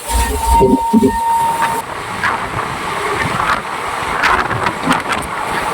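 The Ganadevta Express runs at speed through Purba Bardhaman, a steady close rumble of wheels and carriage with a sustained whistle-like tone early on, then continuous rolling noise throughout.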